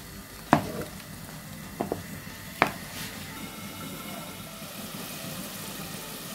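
Garlic, onion and ground spices frying in a pan for a bottle gourd curry, a low steady sizzle with a few sharp clinks and scrapes of a utensil early on, then quiet frying alone.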